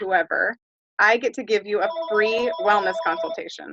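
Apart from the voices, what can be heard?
telephone ringing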